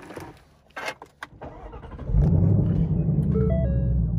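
A 2021 Ford Mustang Mach 1 with a six-speed Tremec manual cranks with a few clicks and whirs, then fires into a loud, steady, deep idle rumble close by.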